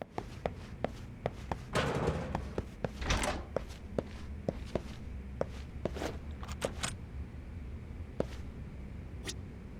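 Doors and cupboards open and shut with sharp knocks and clicks inside a Lost Judgment game scene, several separate thumps scattered across a quiet room tone with faint footsteps.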